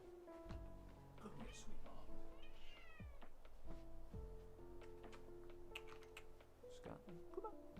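An elderly pet cat meows several times, close and clear, while a person talks to it over the patter of computer keyboard typing.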